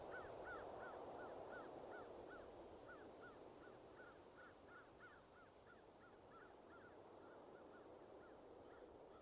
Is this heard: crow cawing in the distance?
yes